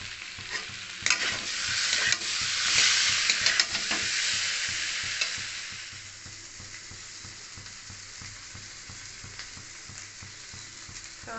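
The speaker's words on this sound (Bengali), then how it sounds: "ভালো করে একটু কষায় নেব।" Potatoes and soybean chunks stir-fried in a pan, a steady close sizzle with a louder burst of scraping and frying in the first half that settles to a softer, even hiss.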